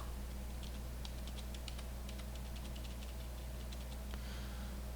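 Computer keyboard keys pressed while playing a tank game, a steady run of light, quick clicks with short pauses between bursts over a constant low electrical hum.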